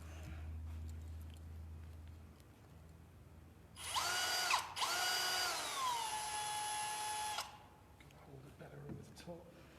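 Small power drill reaming a hole in a dinosaur model, whining at a steady high pitch for about four seconds and briefly dipping in speed; quiet room tone and faint handling before and after.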